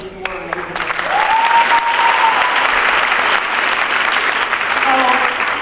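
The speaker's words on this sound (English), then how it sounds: "Can we do a round of applause for these 4 amazing people?" Applause greets four guests at a girls and women in sports school assembly, a dense, sustained clapping crowd that swells after the first second and holds steady, with a few faint whistles and voices mixed in.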